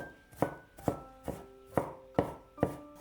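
A kitchen knife dices fresh ginger into small cubes on a cutting board, six sharp, evenly spaced chops ringing out close and clear with no voices.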